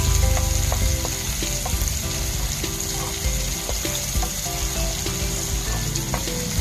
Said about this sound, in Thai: พอน้ำมันเริ่มจะ ร้อนเราก็ใส่พริกที่เราเตรียมมาไว้ลงไปได้เลย ระหว่างนี้เราก็คน